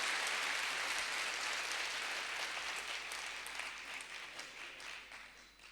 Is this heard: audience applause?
yes